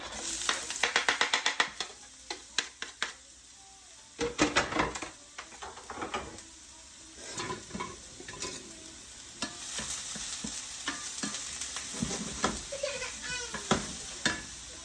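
Garlic and onions fry with beef in a pan, a soft sizzle broken by repeated sharp scrapes and clacks of a utensil stirring and tossing, with bursts of louder rattling early on.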